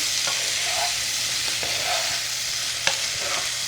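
Cajun tortellini with sausage, Alfredo sauce and cream being gently folded in a pan, giving a steady low sizzle with soft scrapes of the spoon every second or so, close and continuous with no talking.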